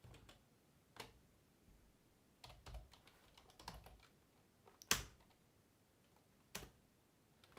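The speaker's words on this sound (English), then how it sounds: "press the left square bracket twice on your keyboard" Sparse keystrokes on a computer keyboard, single sharp clicks spaced irregularly a second or so apart, close and crisp over a quiet room.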